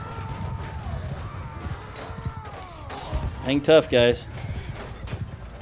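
Horses gallop across a battlefield in Mount & Blade II: Bannerlord, Vlandian cavalry hooves drumming in a rough, uneven rhythm amid combat clatter and a sharp impact, while someone speaks briefly over the noise.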